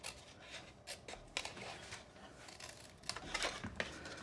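Scissors snip through paper while a split-top gift box is being made, producing quiet, close, intermittent crisp cuts and rustles spaced irregularly across a few seconds.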